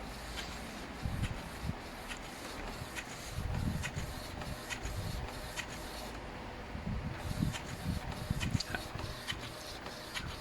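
An Epson printer prints a photo with a steady mechanical whir and repeated rhythmic print-head passes, close by. It pauses briefly midway, then resumes.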